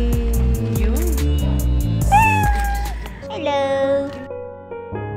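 A cat meows clearly a couple of times in a busy room, the calls sitting over steady music and a brief spoken greeting.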